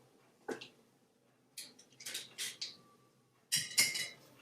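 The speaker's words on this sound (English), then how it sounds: "So we can put this in a smaller bowl" Food scraped and spooned from one bowl into a smaller one for salmorejo, giving a few close clinks and scrapes of utensil on dishware in short bursts separated by quiet gaps.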